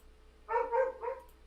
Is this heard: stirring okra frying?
no